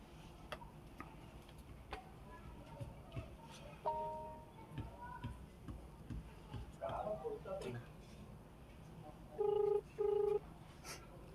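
A mobile phone dials a village sarpanch: a couple of short keypad tones, then two longer ringback tones near the end, all faint under murmuring voices and background ticking.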